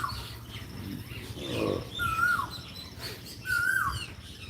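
Sparrows and parrots chirp outdoors after summer rain, with a few clear, rising tweets and scattered softer calls over a faint background hum.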